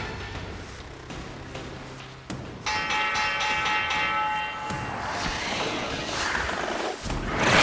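A bell rings out in the Warframe video game amid a busy, layered game soundscape, its clear sustained tones standing out against the background mix without any talk.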